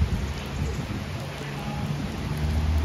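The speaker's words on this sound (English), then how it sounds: "It's a wetty rain now." Steady rain falls outdoors, a constant soft patter and hiss with a low rumble underneath, continuous and moderately quiet with no voices.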